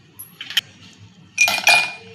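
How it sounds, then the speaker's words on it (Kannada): Ice cubes dropped into a glass of mint lemon juice, one small clink followed by a louder cluster of bright, ringing glassy knocks, close and alone without talk. "ಈಗ ಐಸ್ ಕ್ಯೂಬ್ ಹಾಕ್ಕೊಳ್ಳೋಣ್ರಿ, ಒಂದು 3 ಹಾಕ್ಕೊಳತ್ತೀನಿ ರೀ"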